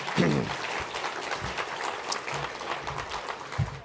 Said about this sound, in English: Another big round of applause for Jeff Warren, everybody